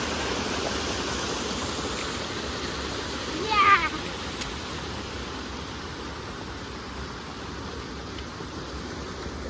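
A waterfall and stream pour steadily as broadband rushing water, close and constant, with a brief louder burst midway and no clear speech.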